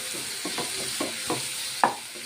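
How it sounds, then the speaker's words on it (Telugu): Ginger garlic paste fries in a pan, a steady soft sizzle punctuated by several light scraping stirs at roughly even intervals, the last one a bit sharper, with no voices. "అల్లం వెల్లుల్లి పేస్ట్ పచ్చివాసన పోయే వరకు వేయించుకుందాం."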